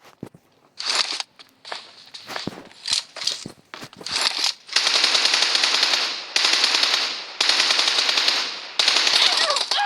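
Gunfire in PUBG Mobile: scattered single shots and short bursts give way to long, loud sustained automatic fire broken by brief pauses, with no talk.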